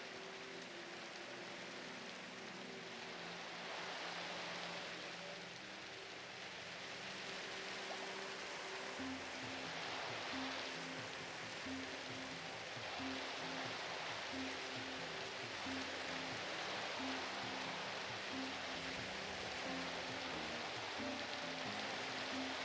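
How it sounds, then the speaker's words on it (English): Steady rain in the Minecraft video game forms a constant, even hiss of falling water throughout, with faint low tones underneath and no talking. "Oh, and of course it would have to be raining."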